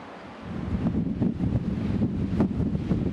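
Steady wind buffeting the microphone on a ridge near Abergavenny, Monmouthshire, a low rumbling roar with gusty swells throughout, no voices.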